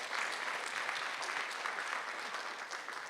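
Conference audience at a governance event clapping, a dense, steady wash of many hands applauding for about three seconds with no voices over it.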